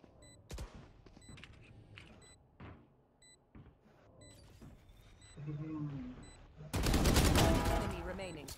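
Gunfire in a Valorant tournament match comes as scattered sharp shots, with a dense burst of rapid fire near the end, mixed with game sounds and faint background voices.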